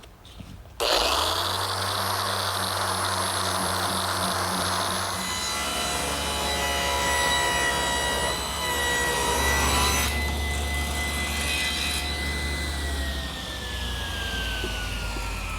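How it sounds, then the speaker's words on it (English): A random orbit sander with 80 grit paper works across a wooden butcher block, a loud steady whirring drone with an abrasive rasp that shifts in pitch as pressure changes, running alone throughout. "Now I've switched to my random orbit sander. I'm starting with an 80 grit"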